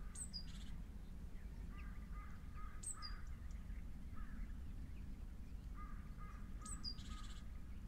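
Crows cawing in the distance, a few harsh calls spaced several seconds apart over a faint, steady background rumble.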